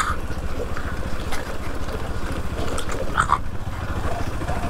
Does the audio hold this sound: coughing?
no